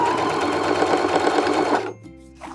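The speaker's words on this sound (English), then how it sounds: "I'm just going to be sewing right where the chalk lines are." A sewing machine stitches along chalk lines to take in the legs of jeans. It runs loud, close and steady at a fast, even whir for about two seconds, then stops abruptly, with a brief faint mechanical click afterward.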